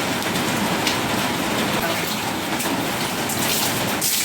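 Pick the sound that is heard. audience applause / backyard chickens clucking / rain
rain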